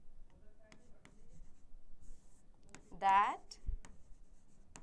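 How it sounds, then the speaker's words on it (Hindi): A teacher writing words down in a vocabulary lesson, faint scratching strokes of a pen or marker with quiet pauses, while a voice speaks briefly partway through. "I will write it down for you."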